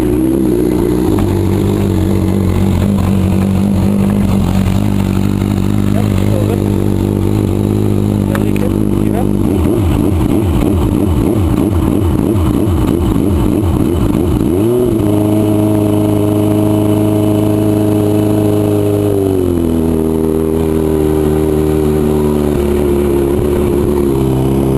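A 2010 Suzuki GSF 650 Bandit motorcycle engine runs steadily at idle during a coolant change, close and loud, with a few brief revs lifting the pitch midway before settling back to a steady hum.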